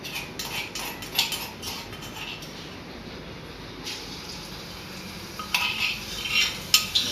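Crushed garlic tipped into half-boiled pasta in a pan and stirred, with light metallic clinks of a spoon against the pan over a low hiss and a few sharper scrapes near the end.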